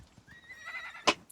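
A horse in the video game Icarus whinnies in a rising, harmonic neigh, followed by a sharp, loud clop of a hoof near the end; no one speaks.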